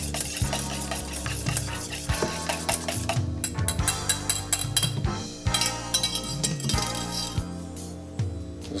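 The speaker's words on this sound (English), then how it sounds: "Make sure it's really nice and whisked" Egg mixture being whisked in a bowl, a busy run of rapid clinking and scraping strokes with some low rumbling underneath, close and continuous.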